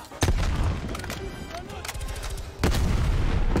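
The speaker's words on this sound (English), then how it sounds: "Throw the grenades!" Grenade explosions and rapid gunfire in the Black Ops Cold War campaign, with loud sharp blasts near the start and again later over continuous battle noise.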